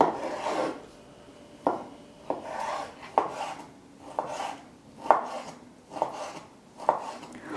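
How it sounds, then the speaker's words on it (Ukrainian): A small carrot being diced into medium cubes, the knife striking a wooden cutting board in a steady run of about eight crisp chops with a rasping slide between them. The chopping is close, with no talking. "Одну невелику моркву я буду також нарізати середнім кубіком."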